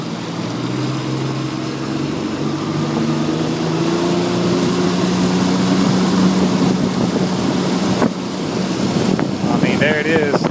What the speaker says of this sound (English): I can hear the water running along the bottom of the boat